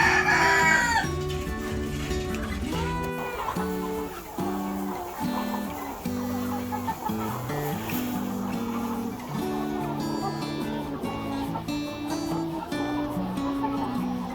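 On a poultry farm, a rooster crows at the start, then hens cluck and mutter in repeated close, pulsing calls over a steady background of music.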